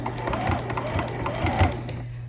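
A sewing machine stitches the seam of a round fabric coaster, giving a steady, close mechanical hum and a fast rhythmic needle clatter that runs without a break.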